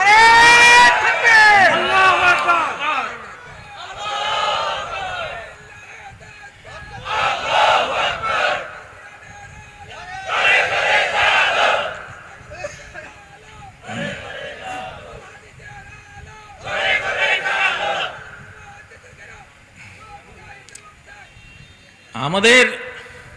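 A large crowd at a rally roars the takbir, shouting Allahu Akbar in repeated loud bursts, each swelling and fading, with a leader's voice calling between the chants.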